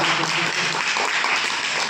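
Schoolchildren clapping for a correct answer in a classroom quiz, a dense, loud burst of applause held steadily for a couple of seconds with no talk over it.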